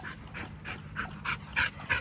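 Dogo Argentino puppies play on a muddy day, their rhythmic panting coming in about seven quick breathy bursts, close and fairly quiet, with no voices.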